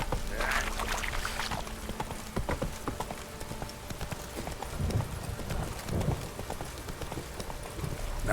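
Hoofbeats of the horse Roach trotting in The Witcher 3, a steady clip-clop over continuous rushing game ambience and music, fairly close, with a few faint game voices mixed in.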